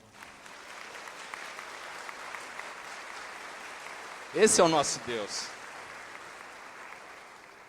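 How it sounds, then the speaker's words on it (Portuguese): A church congregation applauding during a sermon gives a continuous patter of clapping from start to end. A preacher's voice briefly rises above it partway through. "Forte aplauso ao Senhor."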